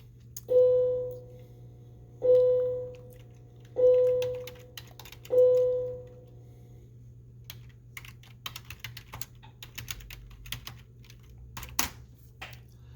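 Typing on a computer keyboard at a desk: a run of soft, irregular clicks in the second half, after four evenly spaced ringing chime tones.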